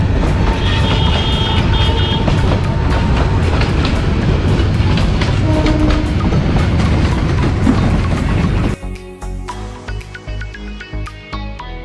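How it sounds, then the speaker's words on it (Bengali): The Tista Express passer train rumbles loudly past close by with clattering wheels, a continuous heavy roar that drops off abruptly near the end, leaving quieter rhythmic clacking. "এই যে তিস্তা ট্রেন, যার টিকিট না পেয়ে আমরা ময়মনসিংহ আসছি।"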